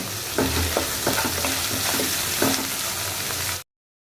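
Onions sizzle steadily in a hot pan while a utensil scrapes and stirs them in several short strokes, close up.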